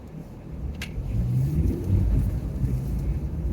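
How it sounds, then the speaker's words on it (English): A lorry's engine rumbles close alongside in a driving video game, a deep steady drone that swells slightly as it keeps pace, with a brief sharp tick near the start. "I've got a lorry right next to me."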